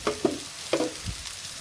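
Pomfret fish frying in oil: a soft sizzle with a few brief stirring or shifting sounds, quiet and close.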